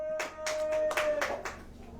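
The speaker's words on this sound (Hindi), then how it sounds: "फिर ताली बजाएं।" Worshippers at a Hindi church service clap together in short rhythmic bursts, nearby and moderately loud, over a steady held tone in the background.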